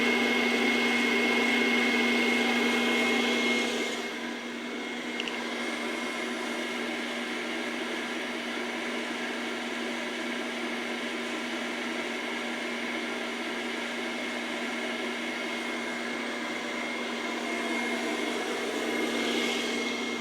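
A Sweet Maria's popper roasts coffee beans with a steady loud fan whir and hum running without a break, a faint rustle of moving beans beneath it and no voices.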